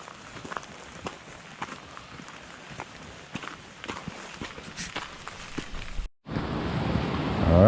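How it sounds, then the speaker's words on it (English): Footsteps crunch along a wooded trail near Taggart Lake in Grand Teton, Wyoming. Then the loud, steady rush of Taggart Creek's flowing water takes over for the last second or so. "I hear a creek."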